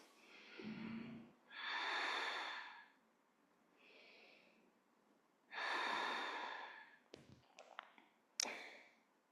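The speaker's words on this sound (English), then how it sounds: "Couple more breaths." During a yoga twist, slow deep breaths come close and quiet, several long airy inhales and exhales separated by pauses, followed by a few soft taps and clicks.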